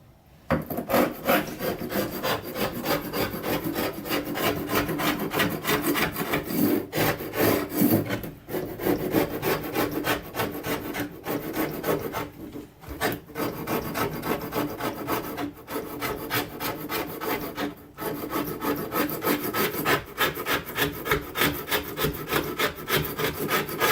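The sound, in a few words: razor blade scraper scraping off mastic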